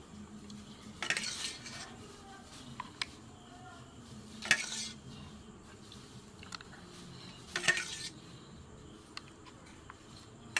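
Green mango ice cream mixture being filled into ice cream moulds, with sparse clinks and taps of utensil against containers, three sharper knocks standing out over quiet kitchen background.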